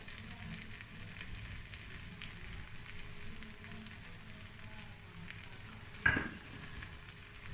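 Cumin potato bhujia with fresh coriander being stirred in a pan, making a faint continuous sizzle with soft scraping and one sharper clink near the end.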